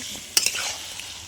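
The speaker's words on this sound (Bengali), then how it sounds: "মশলাটা কষানো হয়ে গেছে আমি এখানে এবারে দিয়ে দেবো চিকেন চিকেনটা চিকেনটা ভালো করে কষিয়ে নেব" Chicken sizzles as it is stirred into cooked spice masala in a pan, a soft, continuous frying hiss broken by a couple of sharp scraping and clattering stirs.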